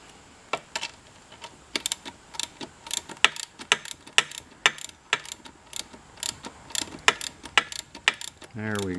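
Bolts are snugged up with a ratchet while pistons go into a Kohler engine, giving a close run of quick, irregular clicks and metallic ticks, with a short voice at the end.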